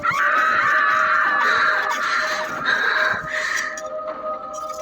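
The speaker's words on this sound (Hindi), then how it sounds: "उस लड़की की मदहोश कर देने वाली आवाज डरावनी चीख बनकर निकली" A woman's drawn-out, frightening scream from a horror tale rings out loud and sustained, wavering in pitch for several seconds before trailing off into breathy fragments, with no talk over it.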